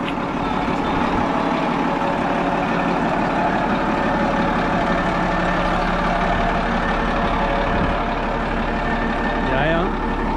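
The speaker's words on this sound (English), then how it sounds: "Kommer en fin Volvo." A Volvo vehicle approaches beside an airfield, its engine rumbling steadily with a reversing beep and air-brake hiss near the end, a person talking over it.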